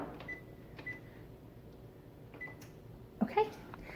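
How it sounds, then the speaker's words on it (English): Short, faint electronic beeps from an oven control panel while the oven is set to preheat to 350, with a few single tones spread apart over a quiet kitchen background and a louder clatter near the end. "we're gonna preheat the oven"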